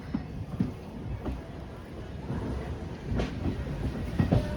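A train pulling out of KSR Bengaluru station, with low rumbling and faint rhythmic clatter of wheels over rail joints, steady throughout, with some voices or background chatter.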